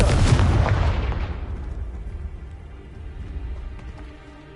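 A Confringo fire spell explodes in the Hogwarts Legacy video game: one loud, close, broad blast that fades into a long low rumbling tail.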